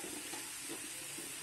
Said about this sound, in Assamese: এয়া আধা ঘণ্টামানৰ কাৰণে আমি ধুনীয়াকৈ ভাজিব লাগিব